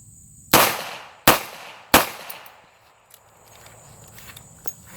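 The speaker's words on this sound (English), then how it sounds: "we'll do the final 3 sustained rate of fire, center mass" A J-frame revolver fired at an outdoor range: three loud, sharp shots evenly spaced about a second apart, each followed by a short decay, then quiet with faint small noises.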